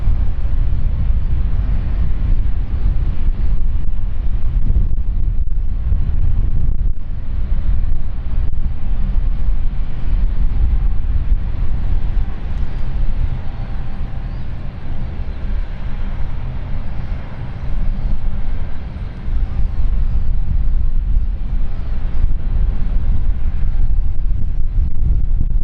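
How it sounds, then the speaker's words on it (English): A Luxembourg Dash 8 turboprop on the ground, its left engine revved up while the right one idles, gives a loud, steady drone with a low rumble that continues unbroken, mixed with wind noise on the microphone. "the left engine was increased whilst the right engine stayed at idle"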